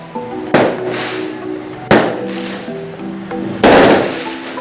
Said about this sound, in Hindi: यहाँ पर आतिशबाज़ी हो रही है ना पीछे गली में मेरी